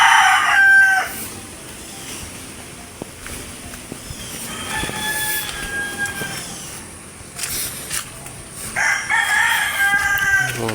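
Chickens and a crowing rooster sound in a backyard with fruit trees after strong wind and rain, several short, fairly distant calls spread across a background of outdoor noise.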